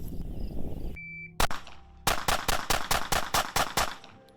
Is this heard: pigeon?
no